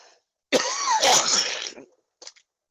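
A single harsh, rasping smoker's cough burst lasting over a second, followed after a pause by a brief faint second sound.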